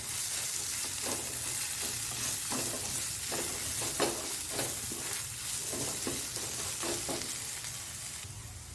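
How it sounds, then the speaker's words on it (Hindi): Coriander and cumin powder frying in oil in a pan for a mutton brain fry, a continuous close sizzle with soft stirring scrapes throughout and no talking. "अब इसको अच्छे से अभी इसको भूनेंगे तेल में।"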